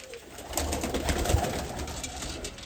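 Slate-coloured pigeons from a fancier's loft coo softly and intermittently at close range, their low burbling calls running over a steady background hiss with no talking.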